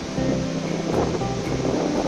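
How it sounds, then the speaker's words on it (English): Gaganachukki Falls on the Kaveri river in Karnataka, a steady broadband roar of falling water heard from a distance, loud and continuous without pause, with some wind noise across the microphone. "is the amazing view of Gaganachukki Falls in Karnataka"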